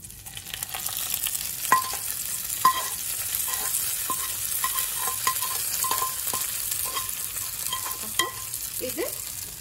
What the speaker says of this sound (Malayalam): കുറച്ച് ഒരു വറ്റൽമുളക് ഇട്ടിട്ടുണ്ട് കുറച്ച് കറിവേപ്പിലയും ഇട്ടു അതിന്റെ കൂടെ ഒരു അര ടീസ്പൂൺ തേങ്ങ ചിരണ്ടിയതും കൂടി ഇട്ട് ഒന്ന് മൂത്ത് കഴിയുമ്പോൾ